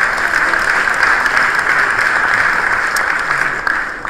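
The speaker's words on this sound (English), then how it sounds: "Can we give them a round of applause" Steady applause from a meeting audience fills the room, dense and continuous for about four seconds and tapering slightly at the end, with no voices over it.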